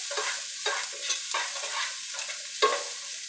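Onions and garlic sweating in a pan for tomato sauce give a steady, soft sizzle, broken by several sharper stirring scrapes as they are moved around, with no talk over it.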